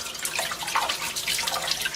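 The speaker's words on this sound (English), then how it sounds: "give it the last bit of rinse under clean water." Running tap water pours steadily over a cyanotype print during its final rinse, a continuous close splashing hiss with small drips, with no talking.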